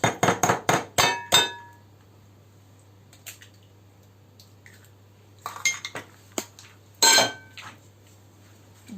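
A utensil stirs egg into minced meat filling in a metal pot for pastilla, giving a quick series of loud clanks against the metal, then quieter scraping and a few more sharp knocks.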